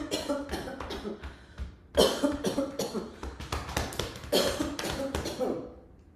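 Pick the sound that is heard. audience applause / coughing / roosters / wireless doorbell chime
coughing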